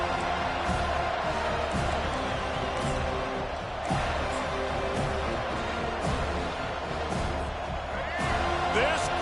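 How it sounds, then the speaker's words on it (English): A stadium crowd in the College Football 25 video game roars at full throat, a dense, continuous wall of cheering with scattered shouts, while a commentator talks over it. "This crowd, full throat, splitting the eardrums"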